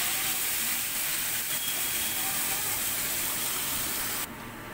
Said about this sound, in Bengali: আমি এবার মশলাটা দিয়ে দেবো, দিয়ে ভালো করে ভাজতে থাকবো।